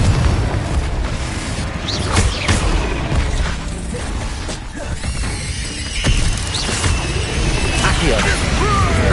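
Confringo explosive spell firing in Hogwarts Legacy, a run of loud booming crashes and bursts over constant dense game noise and music, several impacts spread through the stretch.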